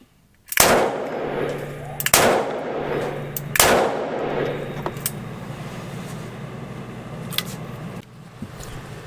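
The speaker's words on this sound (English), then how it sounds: "I've got to do 3 more rounds of the buffalo bore." Three heavy Buffalo Bore rounds fired from a Ruger Redhawk revolver in .45 Colt at an outdoor range, sharp loud booms spaced about a second and a half apart, each followed by a ringing decay.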